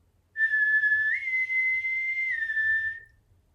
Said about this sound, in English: When they did that whistle